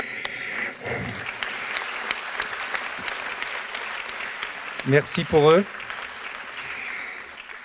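Steady applause from an audience at a Normandie Université doctoral diploma ceremony for the 2022 graduates, continuous and fairly full throughout, with a voice speaking briefly over it.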